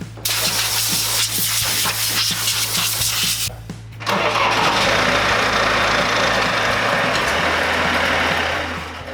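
A loud diesel engine cranks on a repaired starter motor with rapid rhythmic chugs, pauses briefly, then roars to life and settles into a steady rumbling idle.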